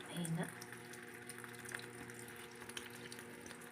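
Running water for doing laundry at home, a steady low gush and hiss with a faint hum underneath, while a voice speaks briefly near the start.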